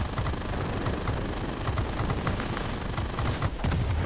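Guns on an XP-55 fighter plane in World of Warplanes fire in a dense, continuous rattle over a steady engine drone, loud and sustained throughout.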